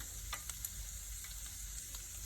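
Beef goulash fries and sizzles in a pan inside a semi truck cab while being stirred, a faint steady crackle with a few soft scraping clinks over low cab hum.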